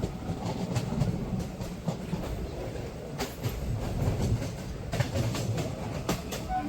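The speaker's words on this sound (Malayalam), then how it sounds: "ട്രെയിനിൻ്റെ ആദ്യത്തെ സ്റ്റേഷനായ പട്ടാമ്പിയിലേക്ക് വണ്ടിയെത്തി." A Shoranur–Kannur express train rolls into Pattambi station, its carriages rumbling with rhythmic clickety-clack from the wheels over rail joints, steady and fairly close, without any talk.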